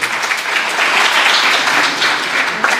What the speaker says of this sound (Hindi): तो इनके लिए भरपूर तालियां होनी चाहिए